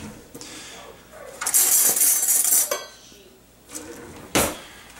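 A butter knife pries at a home winemaking fermentation bucket, with scraping metal clinks, a loud rustling burst in the middle and a sharp pop near the end, close up, with some speech.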